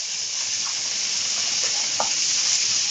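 Green chili, capsicum, shredded carrot and cabbage frying in a pan, an even, close sizzling hiss with a few light taps and scrapes of stirring.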